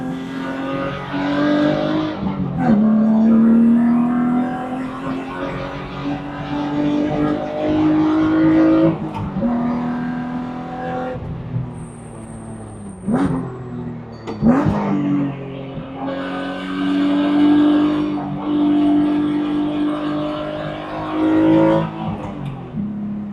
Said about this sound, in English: Iron block straight six, man. Sounds so good.